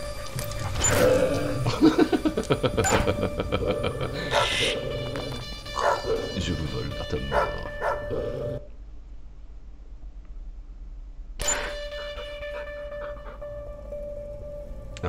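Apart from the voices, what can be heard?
dog barking in Ministry of Broadcast video game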